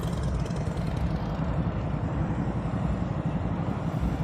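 Motorcycle at slow speed on low throttle during advanced slow-speed riding practice in Florida, a steady low engine rumble that stays even and continuous throughout without any speech.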